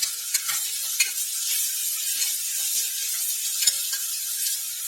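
Tomatoes and green chilli sautéing in a pan, a steady soft sizzle with occasional light scraping stirs, close and alone.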